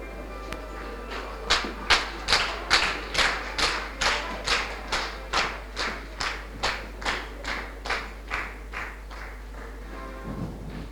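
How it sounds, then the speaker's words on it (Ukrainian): An audience claps in unison for a team at a youth financial literacy quiz final, about twenty slow rhythmic synchronized claps, loud at first and gradually softening, over a steady low hum. "Наші оплески команді."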